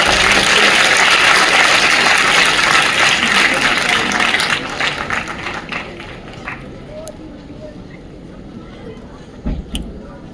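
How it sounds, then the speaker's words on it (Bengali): A crowd at a youth conference applauds a student, starting as loud, dense clapping and fading out gradually after about four seconds, followed by a few quieter scattered knocks. "ওর জন্য একটু করতালি দাও"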